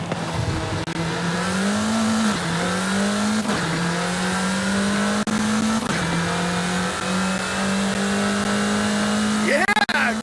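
A car accelerates hard in Forza Horizon 5, its engine note climbing steadily through several gear shifts at close range, loud and continuous, ending with a brief tire squeal.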